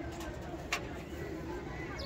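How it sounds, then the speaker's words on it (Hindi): Domestic pigeons of a white-and-gold show breed coo softly in a loft, low murmuring calls under steady background noise, broken by one sharp click partway through. "वाइट गोल्ड बेहतरीन कबूतर माशाल्लाह शानदार कबूतर"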